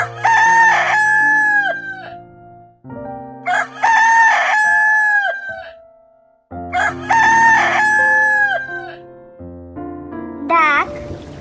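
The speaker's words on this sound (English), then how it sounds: "Cockerel." A cockerel crows loudly and close by three times, each long call separated by a short silence. A voice is heard briefly at the end.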